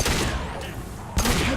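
Gunfire in the video game Mass Effect: a loud, dense burst of rapid shots, a short pause, then another loud burst, with no talking.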